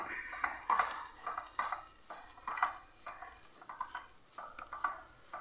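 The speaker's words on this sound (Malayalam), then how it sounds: "ഒരു പിടി മല്ലിയിലയും പുതിനയിലയും കൂടെ ഒന്ന് നല്ലപോലെ ഒന്ന് കീറി ചെറുതാക്കിയിട്ട് നമുക്കൊന്ന് മിക്സ് ചെയ്ത് കൊടുക്കാം" Coriander and mint leaves being mixed through a snack filling by hand, giving soft repeated patters and light clatters against a bowl, close and fairly quiet, with no talking.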